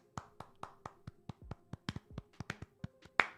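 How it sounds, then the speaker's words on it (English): Two people clap their hands into microphones to sync audio, with a run of about fifteen sharp, close, separate claps at an uneven pace and one loud final clap. "we're going to clap into our mics"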